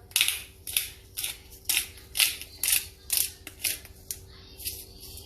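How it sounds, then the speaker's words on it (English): Hand-cranked pepper grinder cracking whole black peppercorns, a steady series of about ten close, crisp, gritty grinding bursts in a quiet kitchen. "If you don't have a pepper grinder, y'all get y'all one of these for some of that good old fresh cracked black pepper."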